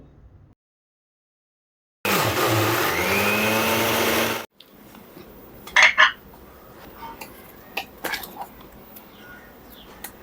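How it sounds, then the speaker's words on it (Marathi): A kitchen mixer grinder whirs loudly for about two and a half seconds, blending a mango and coconut mixture with milk, then cuts off abruptly, followed by scattered clinks of pots and utensils. "उरलेलं दूध घालून हे मिश्रण पुन्हा एकदा मिक्सरवर वाटून अजून एकजीव करून घेतलं"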